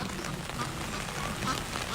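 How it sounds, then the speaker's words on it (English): Steady rain falls outdoors on a morning in Virginia Beach near an aviary with a small pond, a continuous close wash of patter and drips with no break throughout. "it's raining here in Virginia Beach this morning"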